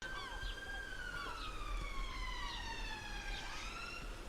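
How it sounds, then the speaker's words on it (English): An ambulance siren wails steadily with long rising and falling tones, moderately loud and continuous throughout, over a low rumble of traffic. "There's police siren. Oh no, it's an ambulance."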